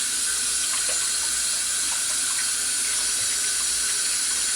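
Warm tap water, about 80 degrees, runs steadily into a tray for a gum bichromate print, a continuous bright hiss of flow with a few small splashes, no voices.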